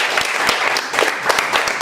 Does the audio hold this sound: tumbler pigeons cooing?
no